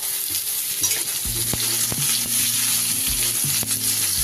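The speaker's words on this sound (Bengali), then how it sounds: "এবার এর উপরে দেব আমি কুমড়োর টুকরোগুলো।" Pumpkin pieces tumble into spinach frying in a pan, setting off a steady loud sizzle with scraping stirs and soft thumps, close up with no talk.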